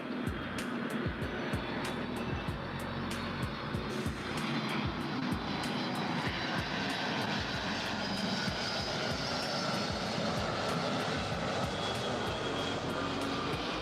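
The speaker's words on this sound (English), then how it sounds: "Our next arrival is Delta Airlines Flight 342 coming in from Washington National." A Delta Air Lines Boeing 757-200 arriving at LAX from Washington National, its steady, loud engine roar holding throughout with broadband rumble and faint sharp clicks overhead, no voices.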